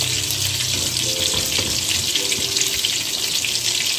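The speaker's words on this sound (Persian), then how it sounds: "وقتی پیازمون سرخ شد دونه های انار ترش رو بهش اضافه میکنیم. قشنگ هم بزنید" Sour pomegranate seeds stirred into frying onions in a pan, a loud steady sizzle with scraping and stirring noises running throughout, no voices.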